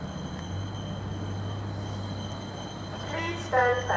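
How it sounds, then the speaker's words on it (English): A Greater Anglia Class 745 FLIRT electric train approaches a station platform with a steady low rumble and hum that swells toward the end, while a voice speaks over it. "here comes another Class 745 FLIRT unit"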